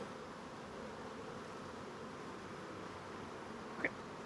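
Honeybees hum in a steady, faint drone around an open beehive, with one brief louder buzz as a bee passes close near the end.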